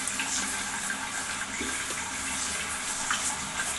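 Water runs and splashes steadily at close range while Gigi, a kitten, is bathed, a continuous wash of sound with small irregular splashes and no talk.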